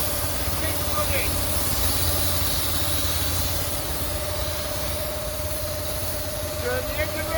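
The diesel engine of a van fitted with a hot-and-cold steam washing rig runs steadily at raised revs. The hum is continuous and close, and someone talks over it.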